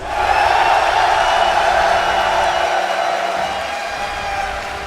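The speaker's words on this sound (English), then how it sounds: "Make some noise for LGD!" A large arena crowd at The International esports event cheering for LGD, a steady loud roar of voices that tapers slightly toward the end.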